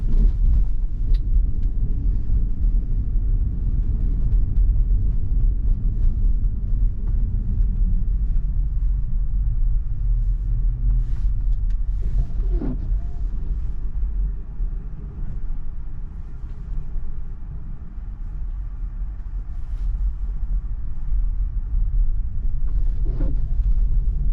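Inside a Tesla driving a snowy road during a snow storm in northeast Minneapolis, a steady low road rumble and tire noise continue throughout. The level dips briefly midway, with a few faint chimes and no talking.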